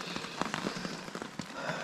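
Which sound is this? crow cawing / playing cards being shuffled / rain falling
rain falling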